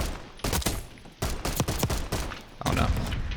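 Rapid pistol fire in a first-person shooter video game, dense overlapping shots in several loud bursts separated by brief pauses.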